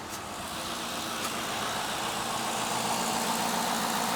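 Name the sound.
Cadillac engine idling smoothly after a vacuum leak fix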